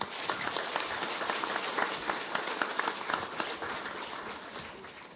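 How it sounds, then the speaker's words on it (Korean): An audience at a political party forum in a hall claps, a moderately distant patter of applause that stays steady and then fades slightly. "박수 부탁드립니다"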